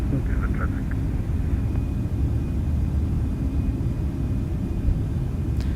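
A Boeing 757-200 in the FlightFactor flight simulator rolls down a Denver runway for takeoff, its engines a loud, steady low roar and rumble that holds constant throughout with no let-up.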